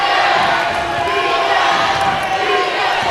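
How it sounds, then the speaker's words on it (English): A women's college basketball championship crowd cheers loudly and continuously for the CSI Dolphins, a dense wall of voices and shouts filling the gym throughout. "The Dolphins crowd trying to get their CSI team going."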